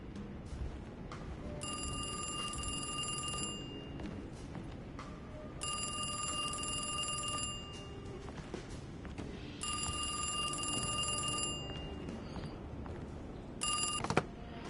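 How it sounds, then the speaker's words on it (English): A telephone rings in the horror video game Alone in the Dark, in four bursts of bright, steady electronic trilling separated by short pauses, loud and close over a dim, murky background. "Telephone ringing?"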